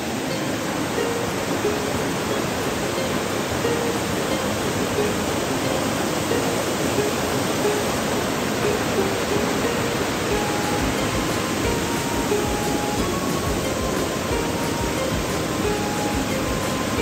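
Mountain waterfall in Fukushima, Japan: a steady, dense roar of falling water that fills the whole stretch evenly, loud and continuous with no voices.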